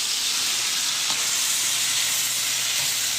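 Steak for fajitas sizzles loudly and steadily in a hot pan as it is turned, a dense close frying hiss with a faint clink of utensils.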